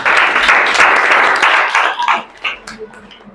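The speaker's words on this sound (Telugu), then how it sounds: "good claps" Children in a school classroom clap loudly together for a couple of seconds, then the applause breaks into a few scattered, trailing claps that fade out near the end.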